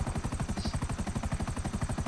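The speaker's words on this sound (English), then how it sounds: "since we have a helicopter, we're going to be able to get to these a lot quicker" A helicopter in the video game GTA V, its rotor beating in a fast, steady chop with a constant engine drone, loud and close, with no talk over it.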